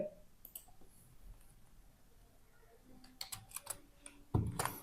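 A computer keyboard is tapped while typing prompts, with quiet, sparse clicks that come in scattered bursts and rise to a quick cluster near the end.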